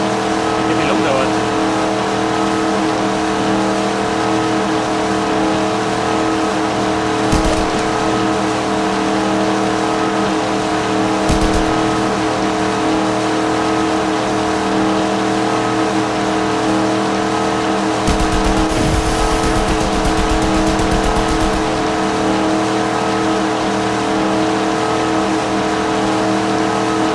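Car driving in Just Cause 2, a steady droning engine with layered tonal hum that holds throughout, broken by a few bursts of noise and rattles.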